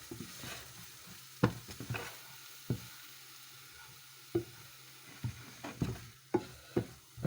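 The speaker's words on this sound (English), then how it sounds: "The butter and the olive oil is doing its work." Butter and olive oil frying in a pan while salmon en croute is prepared, a soft steady sizzle running under intermittent sharp clatters and scrapes of a utensil stirring against the pan.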